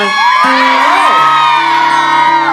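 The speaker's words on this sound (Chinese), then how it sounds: "全场的尖叫声可以再一次吗？" Concert crowd at a tea-picking song festival in Toufen, Miaoli, screaming and whooping loudly and continuously, a dense wall of high cheers and shouts sustained throughout.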